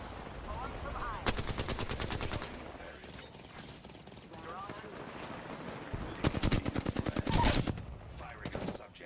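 Rapid bursts of automatic gunfire in a battle-royale shooter game, two dense volleys of repeated shots ringing loud and close, with quieter in-game effects and distant noise between them.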